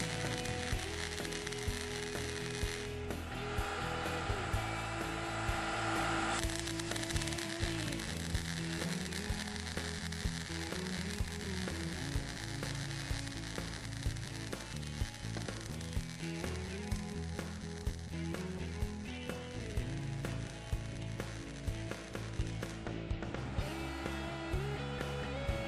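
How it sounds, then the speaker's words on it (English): An Everlast PowerMTS 250S inverter welder MIG welding stainless steel gives a steady, dense crackling sizzle that runs close and loud and without pause for the whole stretch. "The welder welds smoothly with little spatter."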